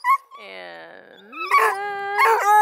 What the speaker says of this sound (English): So, the one barking is female.